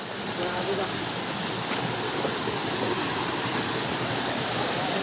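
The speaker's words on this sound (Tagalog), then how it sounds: "Sobrang ganda ng falls na ito." A waterfall roars as a dense, steady broadband rush of falling water, loud and unbroken throughout, with no distinct individual splashes.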